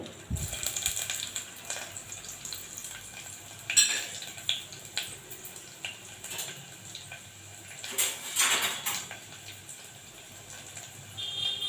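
Fenugreek seeds and crushed garlic frying in a pan over a low flame, a soft steady sizzle with utensil scrapes and stirring clatter on and off, close up, with no talk.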